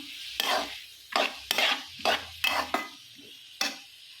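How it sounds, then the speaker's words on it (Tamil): Onions and tomatoes being sautéed for paneer butter masala, with six or seven distinct bursts of scraping and sizzling as the pan is stirred, separated by short quiet gaps, close up and without speech. "தக்காளி நல்லா வதக்கிக்கலாம்"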